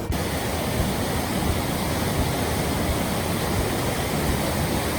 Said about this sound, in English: This is a mystery waterfall, but just look at it.